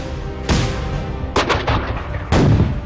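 Siege artillery batteries firing in repeated heavy booms, three loud blasts spaced across a few seconds with rumbling decay between them, close and forceful.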